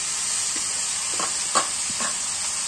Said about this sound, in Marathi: यात आपण ही करडीची भाजी स्वच्छ धुवून घेतलेली आहे ना, ती पण टाकून घेऊया